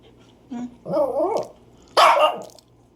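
A dog late at night lets out a short low growl, then a longer rumbling growl, then a sharp loud bark. All three are close and separated by brief pauses.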